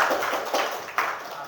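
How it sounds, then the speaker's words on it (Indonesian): A classroom of students claps for a presenting group, a brief burst of close, uneven clapping with a few distinct hand claps. "tepuk tangan untuk kelompok 6"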